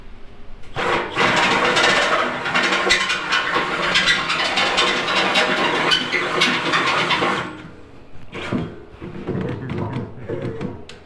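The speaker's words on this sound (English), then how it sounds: "I love drilling holes." Loud, sustained power drill whirring and grinding through wood for several seconds, stopping, then a few shorter bursts of drilling, making holes for a Model AA wrecker fuel tank.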